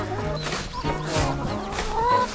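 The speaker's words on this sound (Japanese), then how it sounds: "あ、ひよこ、ひよこですか？" Chickens cluck and peep close by, with a continuous run of short chirping calls and clucks.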